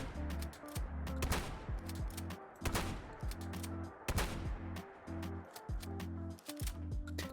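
Winchester shotgun in Fallout 4 firing several sharp loud blasts, each followed by mechanical pump and shell-loading clicks, in an uneven rhythm of shots and reload actions with no talk.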